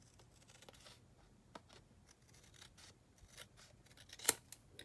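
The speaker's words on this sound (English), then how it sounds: "I will trim that just a little bit." Scissors trim paper for a Halloween scrapbook album, with a series of quiet, close snips and small paper rustles, then one sharper cut near the end.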